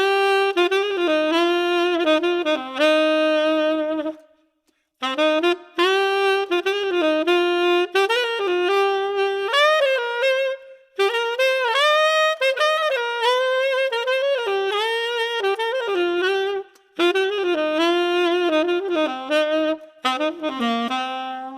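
A tenor saxophone with a JodyJazz DV New York mouthpiece plays a melodic jazz line alone, bright and free-blowing, in phrases separated by short breaths, close and loud.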